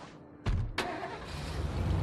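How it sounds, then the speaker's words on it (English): A car engine starting in State of Decay: two sharp cranking bursts in quick succession, then the engine catching into a steady, moderately loud idle rumble. "Not quite sure what this car is doing over here."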